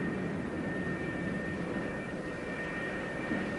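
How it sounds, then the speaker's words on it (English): F-4B Phantom II jets taxi on the flight deck of the carrier USS Forrestal, a steady, loud jet-engine roar with a high whine running continuously. "another pair of Phantoms taxis up for launch."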